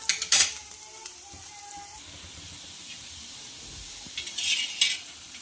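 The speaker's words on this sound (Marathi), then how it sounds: "दुसऱ्या साइड आपण छान असा खरपूस भाजून घेणार आहोत" A spring onion dhapata flatbread roasts on a hot griddle with a soft hissing sizzle that flares into louder bursts near the start and end, alongside light utensil clatter.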